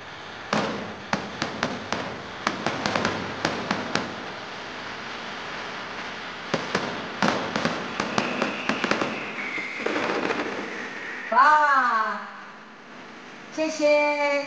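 Computer-designed aerial fireworks at a temple celebration evening at Baoan Temple in Chenjingliao, bursting in sharp, loud bangs in rapid clusters with pauses between. Whistling rising shells follow near the end, and people talk in the background.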